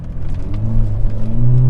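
An all-wheel-drive Alfa Romeo Giulia Q4 pulling away in first gear, its engine a loud close rumble that climbs steadily in pitch as it revs up, with no talking.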